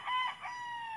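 A gamecock rooster crows, a bright drawn-out cock-a-doodle-doo close by and fairly loud, its call rising then trailing into a long sustained tone with no talk.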